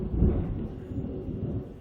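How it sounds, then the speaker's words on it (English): Thunder rumbling indoors, a low, muffled rolling boom that peaks early and then grumbles on steadily at moderate volume, distant and without voices. "That thunder though"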